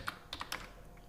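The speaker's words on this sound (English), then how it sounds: "let's click on start and start typing the" Brief typing on a computer keyboard during an online typing test, a few quick soft key clicks close up over a faint background hum.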